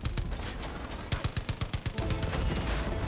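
Rapid bursts of automatic gunfire in the video game Far Cry 5, a tight volley of sharp shots in the middle with more scattered firing around it, fairly loud over a busy game background.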